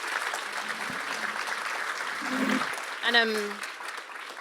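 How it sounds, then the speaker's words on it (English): Conference audience applauding a panel on disinformation, a steady moderate patter of many hands, with a voice briefly speaking over it near the end. "A big round of applause for an excellent panel."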